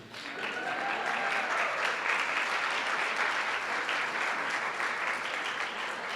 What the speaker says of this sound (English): Round of applause for Willie Templeman.